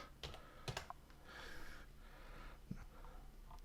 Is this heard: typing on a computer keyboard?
yes